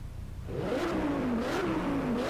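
A car engine in the racing game Driveclub revs up and holds a rising, wavering roar, steady and fairly close, with no talking.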